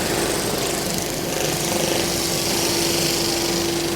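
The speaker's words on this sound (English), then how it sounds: "So this is our laser cleaner, a bit low because we've got extraction." A laser cleaner strips rust from around a weld face, heard as a constant, even hiss and whine mixed with the steady roar of fume extraction running close by.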